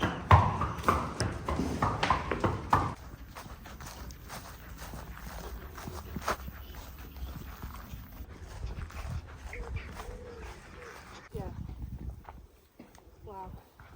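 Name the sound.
horse hooves clip-clopping while being led on a road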